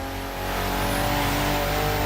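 BMW CSL car engine in the racing game The Crew Motorfest, a steady loud mid-pitched drone that swells slightly as it revs, with no voices over it.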